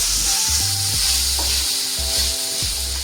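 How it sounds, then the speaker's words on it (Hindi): Chicken pieces frying in a pan for chicken macaroni, a loud continuous sizzle and hiss with intermittent stirring and spatula knocks, close up and without talk. "जितनी अच्छी हम चिकन की भुनाई करेंगे ना, इसको भूनेंगे"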